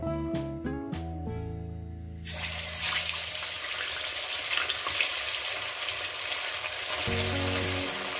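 Rohu fish pieces hit hot oil for a Bengali jhal and burst into a loud, steady sizzle that holds for several seconds, after a short run of clattering at the start.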